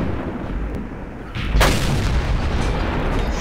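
In World of Tanks, an M18 Hellcat fires its tank gun with one sharp, heavy boom partway through, after a low rumbling engine drone that continues afterward.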